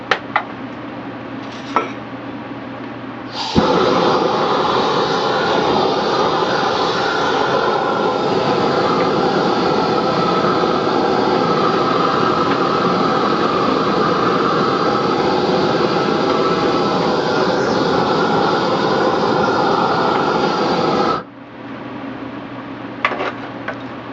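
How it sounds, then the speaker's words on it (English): A fan blower roars steadily onto a coal fire for about eighteen seconds, a loud, continuous rushing drone that starts and stops abruptly. "I got the fan blower blowing."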